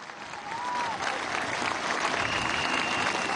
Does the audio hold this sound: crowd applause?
yes